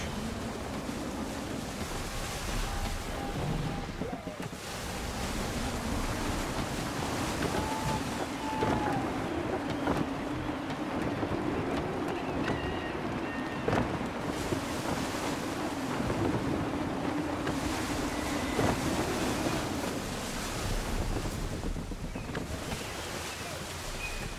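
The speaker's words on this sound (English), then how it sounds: "Wind looks to be shifting. Stay alert, Connor. Gusty winds can be difficult to manage" Gusty wind and ocean waves wash around a sailing ship in the Assassin's Creed 3 video game, a steady, loud, continuous roar with surging swells and faint creaks, heard alone without talk.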